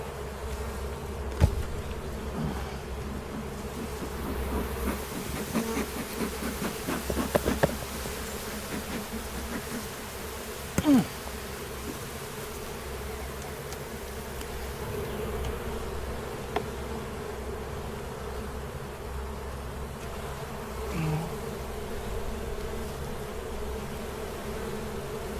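Honeybees hum steadily around an open hive during an inspection on the Mississippi coast, a soft continuous buzz with occasional louder bumps and handling noises close by.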